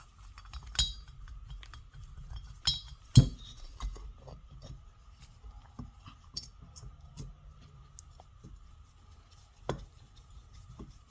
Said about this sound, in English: Then tighten the compressor until the valve keepers can be removed.